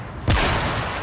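A single loud, close video game gunshot bursts out sharply, then trails off in a long echoing decay.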